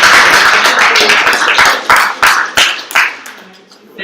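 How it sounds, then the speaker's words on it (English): A small moot court audience claps after a submission, a brief scattered burst of hand claps that thins out into a few separate claps before fading. "Can we clap?"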